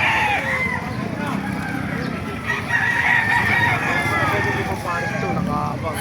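Chickens cluck and crow at a poultry market in Baliuag, Bulacan, with a busy mix of birds nearby, wind noise, and someone talking over them.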